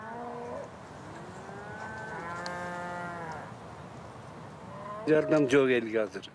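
Cows mooing at a nomad yurt camp in Kyrgyzstan, with long drawn-out lowing calls in the first half, followed by a louder burst of voices near the end.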